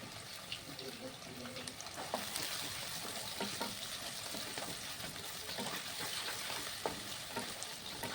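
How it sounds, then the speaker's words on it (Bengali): Two chopped onions frying in hot oil in a pan, a soft steady sizzle with small pops and stirring scrapes, under a quiet bit of talk. "পেঁয়াজ কুচিটাকে ভালো করে আমি এখন ভেজে নেবো।"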